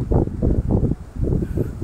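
Strong gusts buffet the microphone in low, rumbling bursts, pulsing roughly every quarter second, loud and close.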